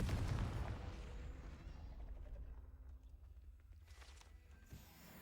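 A Confringo spell explosion in a Harry Potter video game: a loud, boomy blast opens, then rumbles and decays into a faint, low tail with small scattered after-sounds.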